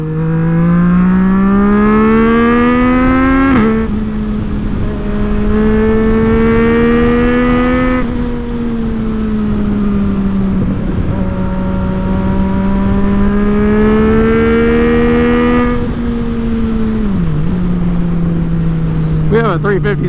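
A 2018 Yamaha MT-09 motorcycle accelerating hard on the road: a loud, close engine howls and climbs in pitch through several gear changes over steady wind roar, with no talking.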